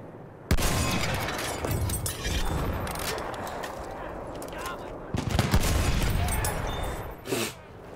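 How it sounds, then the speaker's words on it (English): Sustained machine gun fire in a video game, dense overlapping bursts rattling almost nonstop for several seconds, with a brief lull and a loud renewed volley near the end. "Maschinengewehr, eindeutig feindlich!"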